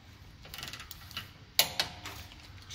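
A torque wrench tightens 22 mm nuts on the rod ends of a new Jeep to 55 foot-pounds, giving two sharp, quiet clicks in quick succession over a faint background hum.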